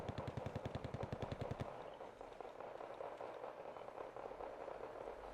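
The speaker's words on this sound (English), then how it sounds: "all of them are firing with the RPKs" RPK machine guns firing in Wargame: Red Dragon, a fast, evenly spaced burst of shots that stops after about a second and a half, leaving a dense rumbling battle backdrop.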